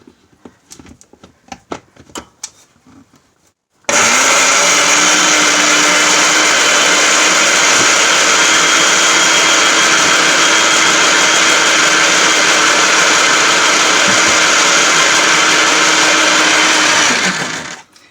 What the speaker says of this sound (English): Put the lid on my blender and blend it for a minute.